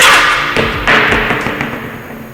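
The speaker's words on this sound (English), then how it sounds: "They don't call it an impact gun for nothing here." Pneumatic impact gun zipping lug nuts off a Volkswagen Jetta's wheels, a few sharp close rattling bursts with short gaps between them.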